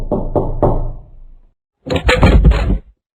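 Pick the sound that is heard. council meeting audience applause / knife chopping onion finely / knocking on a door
knocking on a door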